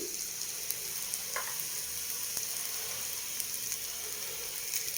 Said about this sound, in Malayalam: അതിന് സവാള വഴന്നിട്ടുണ്ട്, നന്നായിട്ട് വഴന്ന് വന്നിട്ടുണ്ട്